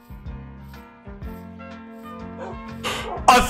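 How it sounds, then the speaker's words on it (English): Dogs in a video game give a few short, yipping barks in a rhythmic pattern over game music, with a burst of noise at the end. "Wait, this is another dog, is it?"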